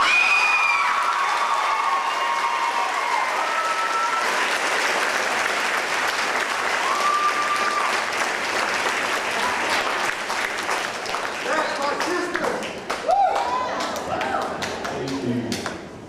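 A graduation audience claps and cheers loudly for a long stretch, dense applause with a few shouts that thins toward the end.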